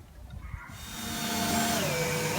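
A power screwdriver drives screws to fix wooden planks onto the back of a piece of furniture, starting with a few soft knocks and handling sounds, then a close, loud, rising motor whine that holds steady.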